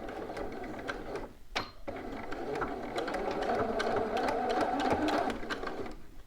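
A sewing machine runs a 5/8-inch bodice seam for a McCall's 7908 dress, a close, steady mechanical whirr with a brief pause early on before stitching resumes and continues evenly to the end.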